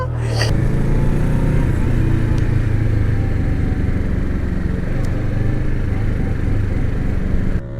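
A Honda Grom motorcycle being ridden, its small engine droning loudly and steadily throughout with a slight rise and fall, ending abruptly near the close.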